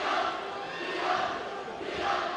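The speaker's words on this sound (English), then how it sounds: "Crowd getting into it," A high school basketball crowd in the field house at Madison East roars and cheers steadily during a game against Madison LaFollette, the dense noise swelling in waves.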